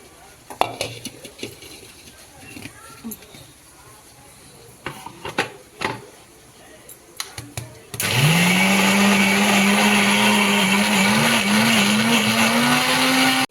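Scattered clinks and taps, then a mixer grinder switches on and whirs loudly and steadily, blending coriander-tomato chutney with soaked tamarind until the end.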